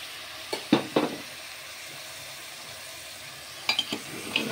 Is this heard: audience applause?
no